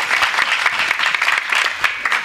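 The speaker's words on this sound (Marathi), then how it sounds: "टाळ्या वाजवा डबल एकदा माऊली महाराजांसाठी" Dense, sustained audience applause from a crowd at a Marathi devotional kirtan gathering, steady broadband clapping filling the whole moment without pause.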